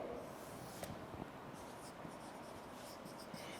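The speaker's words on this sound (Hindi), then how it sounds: "इम्प्लीकेशंस यहाँ लिखती हूँ मैं।" Marker writing a word on a board during a classroom English lecture, with quiet scratchy strokes and small taps spread through a few seconds, faint and close, with no talking.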